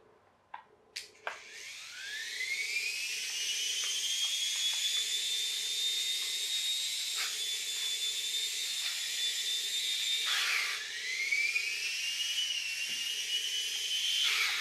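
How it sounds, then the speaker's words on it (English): Flywheel of an Air Hogs Moto Frenzy RC motorbike, an infrared-controlled toy, spinning up with a rising high-pitched whine that settles into a steady loud whir, briefly dips and winds back up, preceded by a few sharp clicks. "But I'm guessing we probably have to spin it up to get it going. To get the flywheel going."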